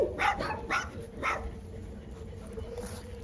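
Large dog, bigger than a boxer, at a stud farm, giving a few quick deep barks and yips in the first second and a half, then quieter whimpering noises amid outdoor background.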